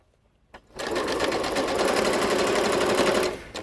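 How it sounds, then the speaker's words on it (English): A sewing machine runs fast and steady for about three seconds, stitching straight over pins on a duster jacket, loud and close, with a brief click before it starts and a stop at the end. "Yes, I sew right over my pins."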